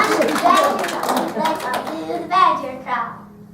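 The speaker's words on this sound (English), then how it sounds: "This is when you clap now. You gotta clap." Third-grade class of children clapping along to a song in an elementary classroom, scattered hand claps mixed with excited children's voices and talking close by.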